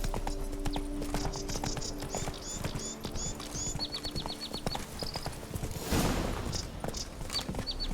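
Roach the horse's hooves clip-clopping in the video game The Witcher 3, steady rhythmic hoofbeats at walking pace under chirpy bird calls and ambient game sound, with a louder whoosh around the middle.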